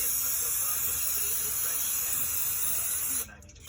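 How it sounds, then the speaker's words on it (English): A continuous loud aerosol hiss of brake cleaner sprayed onto parts runs for about three seconds, then cuts off abruptly into quiet. "spray everything down"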